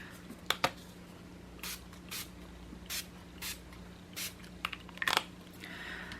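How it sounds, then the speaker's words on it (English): A handheld spray bottle gives a series of short, evenly spaced squirts of water onto distress-inked paper in a craft and printmaking setup, close and crisp, with a few sharper taps and rustles between bursts, no talking. "I'm going to hit it with a few squirts of water"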